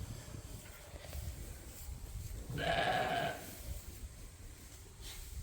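A sheep gives one clear bleat among a Shetland ewe and Suffolk ram lambs on a working sheep farm. It rises over a steady outdoor background hiss.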